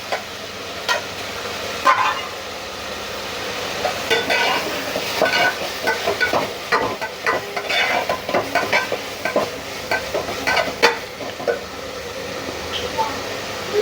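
Masala frying for a prawn curry with drumstick and potato, sizzling steadily in a pan while being stirred, with scraping bursts of the spoon recurring throughout and voices talking intermittently over it.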